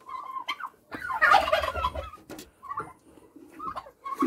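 Turkeys gobbling in loud, close, rippling bursts among clucking fowl in a dirty farmyard pen, with short gaps between calls.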